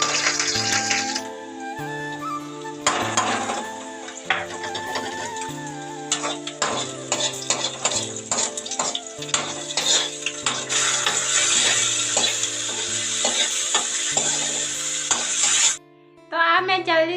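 Pasta with garlic, onion and tomato stirred and fried in a pan, giving a steady sizzle under repeated scraping and clattering stir strokes up close, with a brief pause near the end.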